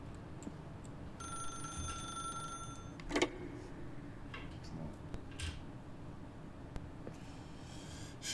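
A telephone rings in The Stanley Parable video game, a thin electronic ring of about two seconds over a low ambient hum, followed by a brief click.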